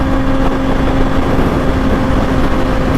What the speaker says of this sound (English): The exhaust is quiet, very quiet. It's like any other stock exhaust.